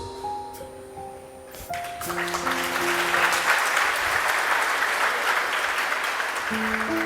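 An audience breaks into applause, building quickly from a hush into a sustained, dense, moderately loud clapping that continues to the end, with soft music tones beneath.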